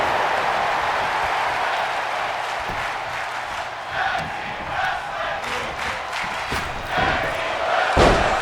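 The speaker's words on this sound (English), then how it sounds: "You hear the crowd chanting for tag team wrestling." A WWE 2K wrestling arena crowd chants and roars in a steady, dense wash of noise, with a few thuds and swells, with no clear talk over it.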